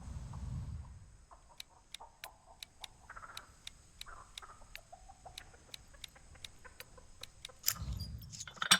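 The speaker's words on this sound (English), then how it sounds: "The game's composer, Ross 𝗘 used real chickens for the audio for Nugget." Real chicken clucks voice Nugget in the Texas Chain Saw Massacre video game, a series of short soft clucks and chirps at a quiet, clock-like steady rhythm, with brief rumbles at the start and end.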